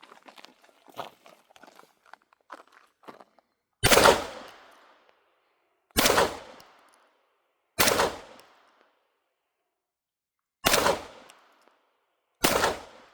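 Five sharp, loud shots from an Aksa Crosfire M-14 .36 caliber air rifle, spaced a couple of seconds apart, each with a short decaying tail, following some faint shuffling and handling noises.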